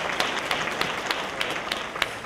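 An audience at a county public safety valor awards ceremony applauds a first responder, steady moderate clapping with sharper individual claps standing out at a regular pace, heard from a short distance.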